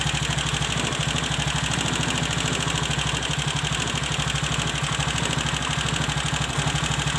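Viar three-wheeled motorcycle engine running steadily and close, a constant dense mechanical drone at a held speed with no clear rise or fall.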